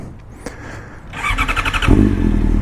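A 2014 Yamaha YZF-R6 engine catches after a brief crank and settles into a loud, steady close idle with a pulsing rumble.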